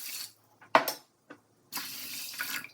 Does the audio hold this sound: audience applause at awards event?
no